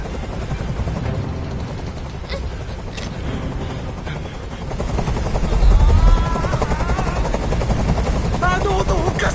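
A helicopter hovers nearby in the game Detroit: Become Human, its continuous rotor thrum and buzz filling the scene and swelling louder midway, with voices talking over it.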